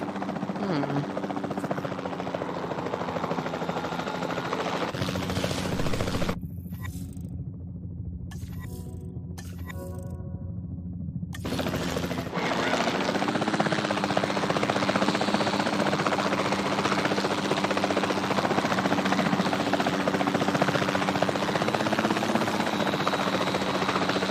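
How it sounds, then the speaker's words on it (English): A capture team helicopter in a dinosaur park video game throbs with a steady, loud rotor drone that cuts out briefly mid-way before returning, with no one talking. "Then the sensible thing is to take a capture team helicopter."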